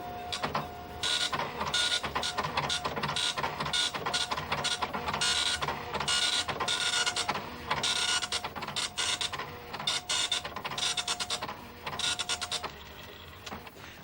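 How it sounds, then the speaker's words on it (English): An old 1980s computer printer churning out bank statements, a loud rapid rattling chatter in repeated bursts of dot-matrix print passes separated by brief pauses, close and continuous over several seconds. "This is the old printer."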